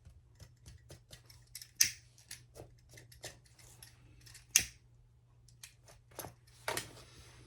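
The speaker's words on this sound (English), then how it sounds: "Now you can clip this extra zipper tape off here." Scissors snip off excess zipper tape while sewing a hobo-style shoulder bag, giving a string of sharp, close clicks and cuts with a few louder snaps spaced irregularly over several seconds.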